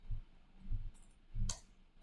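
Keyboard typing during office analytics software work, a few soft separate keystroke clicks at close range, with no talking.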